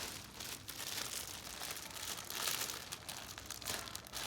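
A wedding card is pulled from its crinkly packaging close up, with continuous crumpling and rustling of plastic and paper, quiet and unaccompanied by speech.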